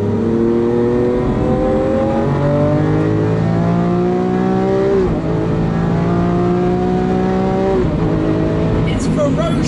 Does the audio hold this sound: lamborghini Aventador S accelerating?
yes